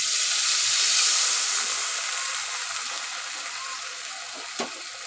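Hot oil in a pan of frying fish curry hisses and sizzles as water goes in. A bright, steady sizzle starts strong and slowly eases, with a small knock near the end.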